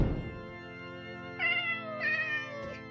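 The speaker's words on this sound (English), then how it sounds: "the cat sounds in Minecraft are just basic recordings of my funny cat" A recorded house cat meowing, used as a sound effect for the Minecraft video game, gives a couple of drawn-out, clear meows close to the mic over a low steady background hum, with no talking.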